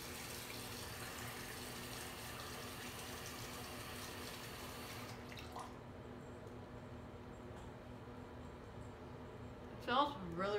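Water runs from a tap as hands are wetted while making a loofah soap bar, with a steady faint rush that eases off midway, followed by a few close splashes near the end.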